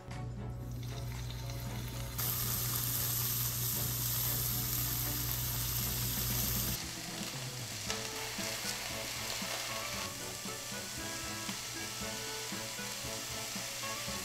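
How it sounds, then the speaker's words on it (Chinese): Tofu sizzles and fries in a hot pan alongside pork belly, a loud steady crackle for the first seven seconds, then softer popping with occasional utensil scrapes and stirring sounds. "弄完之后来煎我们的豆腐。"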